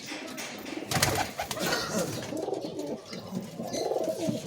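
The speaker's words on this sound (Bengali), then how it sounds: "এটা হচ্ছে গিড্ডে লাইনের পায়রা" Several pigeons coo softly and continuously in a loft of highflying Giddi-line birds, low murmuring calls overlapping at a steady moderate level with a little background rustle and no clear talk.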